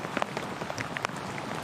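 Heavy rain pours down steadily on an outdoor golf course during a professional women's tournament, a dense continuous patter with scattered sharper drops, fairly faint and even throughout.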